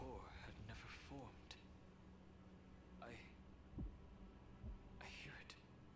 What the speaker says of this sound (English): Finan's heartbeat. It's so faint, like he's on his last breath.